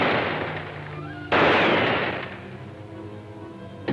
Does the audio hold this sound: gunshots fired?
yes